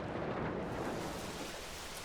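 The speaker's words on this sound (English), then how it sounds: "Hard rain beats against the Burroughs mansion." Heavy rain pours in a dense, continuous hiss with a deep rolling thunder rumble underneath, loud and enveloping, outside a mansion, with no voices.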